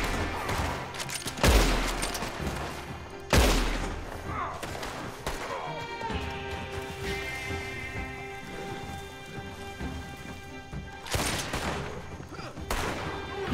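Gunshots in the video game Red Dead Redemption ring out as a few loud, separated bangs with echoing tails, set against a rain-like patter, background music and talking voices.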